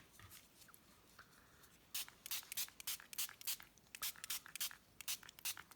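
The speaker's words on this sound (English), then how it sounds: "I'm just going to spritz some little color on this" Short bursts of color spray spritzed onto a paper heart, about a dozen quick hissing puffs in an irregular rhythm, close and crisp, with a quieter rustle before them.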